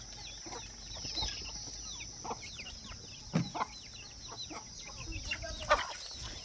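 Free-range desi farm hens and roosters clucking and calling around a farmyard, a busy scatter of short, faint-to-moderate clucks and squawks over steady outdoor background noise, with quiet human voices.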